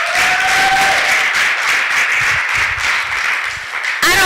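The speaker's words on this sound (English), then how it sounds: "A round of applause." A small-enterprise coaching programme audience bursts into loud, dense applause that holds steady throughout, many hands clapping close together with a brief whistle at the start.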